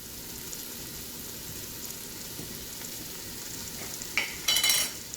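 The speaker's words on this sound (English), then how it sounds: "And I'm just going to let that brown all over on the sear function." Food searing on the sear function of a Ninja Foodi multicooker for wild rice stew: a steady, close hiss and crackle throughout, with a few brief utensil clinks near the end.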